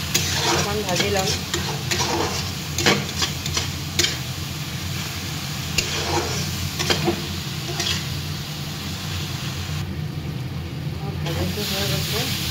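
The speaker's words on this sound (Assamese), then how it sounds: "অকণমান ভাজি ল'ম।" Pabhoi fish and paste frying in a pan, a dense steady sizzle and hiss with frequent close stirring scrapes and ticks throughout, a voice faintly present at times.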